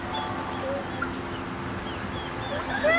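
Chickens cluck softly among a low steady background murmur, with scattered short calls over a few seconds.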